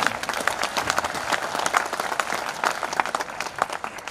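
Warm applause from the audience at a Hindi kavi sammelan poetry gathering in Udaipur, honoring a young poet; dense, steady clapping from a crowd, lively throughout with no pauses.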